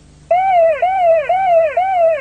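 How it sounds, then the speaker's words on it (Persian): A car's warning alarm signals that the vehicle is in gear, sounding as a loud, close electronic siren that wails in four repeating rising-and-falling cycles over a faint low hum. "آژیر میزنه، اطلاع میده که مثلا الان ماشین توی دنده هست."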